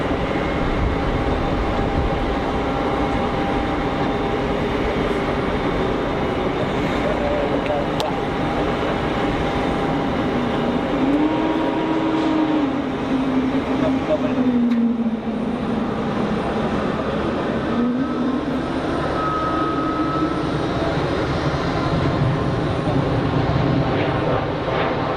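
An airliner inbound from Gatwick lands at Geneva Airport, a steady loud jet roar sustained throughout with a pitch that slowly rises and falls, rumbling continuously with no break.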